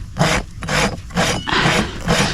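A rasp grates across a horse's hoof during trimming of the mare Alibi, in about five loud, close, rhythmic strokes with short pauses between them.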